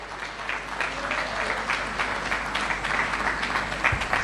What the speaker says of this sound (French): Est-ce qu'on peut applaudir une fois de plus pour ce mot qui vient de cet homme de cœur et d'engagement?